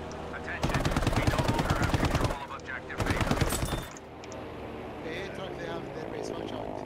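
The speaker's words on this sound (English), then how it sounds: "He's shooting me now." Heavy machine gun fire from a P-70 NightHawk aircraft in Battlefield 5 rips out in two loud, rapid sustained bursts, followed by a softer rumbling background of engine and distant action.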